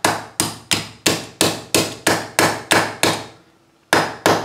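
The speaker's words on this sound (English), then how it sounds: "just tapping out that dent a little bit" A small hammer taps out a dent in a tin toy train resting on a piece of wood, with about a dozen sharp, evenly spaced metallic strikes, close and loud, and one short pause before the last two.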